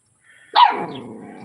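One sharp bark rings out close by after a faint whine, trailing off into a softer growling tail.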